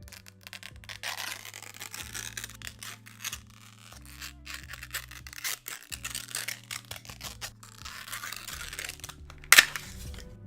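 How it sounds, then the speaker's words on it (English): Apple iPhone XS silicone cases being unwrapped, with continuous close crinkling and tearing of packaging, soft rustles and one sharp snap near the end, over a low steady hum. "So first, let's unwrap all these cases."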